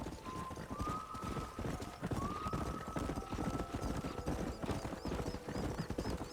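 A horse walks in Red Dead Redemption, hooves clip-clopping in a steady close rhythm throughout, with faint whinny-like tones rising briefly over the footfalls.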